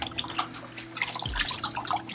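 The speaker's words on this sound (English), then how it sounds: "I like to wring it out to get all of the nasty water out of there" Dirty aquarium water drips and splatters from a wrung-out filter sponge, a quick run of close wet drips and small splashes over a faint low hum.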